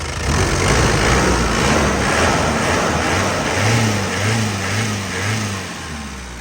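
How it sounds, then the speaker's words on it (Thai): A used Isuzu D-Max 2.5 turbo pickup engine revs up close and loud, rising in repeated throttle blips over a steady rumble, with no other sounds. "เครื่องตัวเนี้ย สองพันห้าเทอร์โบนะ"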